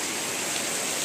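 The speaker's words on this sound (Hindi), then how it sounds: "इंजॉय कर रही है बारिश का मज़ा" Heavy evening rain falling in a village, a steady, dense hiss of downpour that stays even and continuous throughout with no voices.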